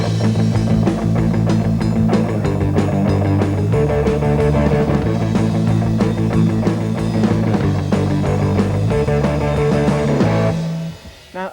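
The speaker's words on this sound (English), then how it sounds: "what you should try is getting the whole band to play 8th notes." Full heavy metal band pounding out fast, even eighth notes on distorted guitar, bass and drums, loud and continuous, with changing chord shifts before an abrupt stop at the end.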